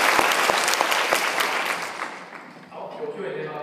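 Audience at a PHP security conference talk claps loudly and steadily for about two seconds, then the applause thins and fades out as a voice begins speaking in the room.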